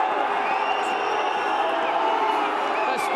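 A rugby crowd at a Munster v Ulster match grows restless and incensed over a delay before a line-out, a steady loud roar of voices and jeers with occasional whoops rising above it.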